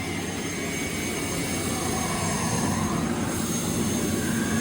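A jet turbine engine fitted in a Camaro runs steadily and loudly, a continuous roaring whoosh with a high whine on top, close by and with no talking.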